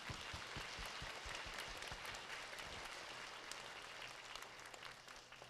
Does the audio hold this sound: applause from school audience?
yes